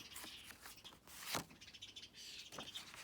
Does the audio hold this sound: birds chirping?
yes